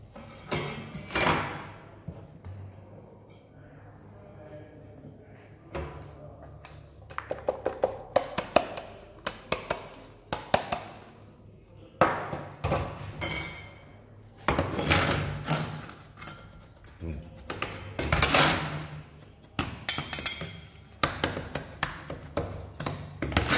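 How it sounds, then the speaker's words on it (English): Cement and sand are mixed dry by hand for mortar, with repeated scraping, scuffing and tapping bursts coming in irregular waves. The sounds are close and moderately loud, with no voices. "So now we will do the mixing of the mortar."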